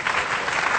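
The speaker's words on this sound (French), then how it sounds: "Nous pouvons acclamer" A church congregation breaks into brief, dense applause, a short burst of many hands clapping together in a hall.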